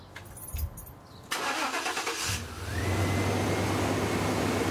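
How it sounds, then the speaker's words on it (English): A 1995 Chevy truck with a 350 V8 is started by remote: a short crank, then the engine catches and settles into a steady, fairly loud idle with a rising whine. "There's me remote starting it."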